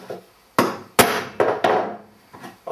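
A hammer strikes a centre punch on metal to make a mark, with four or five sharp, close taps at irregular intervals and no talk.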